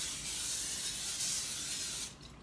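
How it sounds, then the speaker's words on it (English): Cooking spray hisses onto a sheet of tin foil in one continuous spray of about two seconds, close and fairly loud, then stops. "Good old-fashioned cooking spray."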